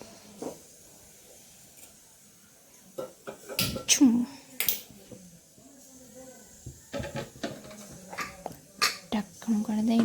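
A gas stove is switched on, giving a few sharp, close igniter clicks and knob handling sounds scattered among quiet kitchen noises.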